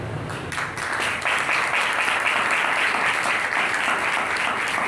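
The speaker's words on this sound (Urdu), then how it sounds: "اور یہ تالیاں میں اس لیے بجوا رہا ہوں" Audience applause fills a church during a sermon in Karachi, a dense, sustained clapping from many hands that swells after the first second and holds steady and loud throughout.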